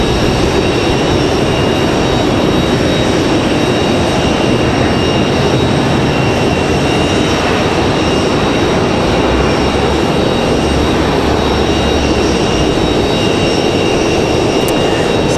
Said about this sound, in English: Delta 737-900 makes their way out to the runway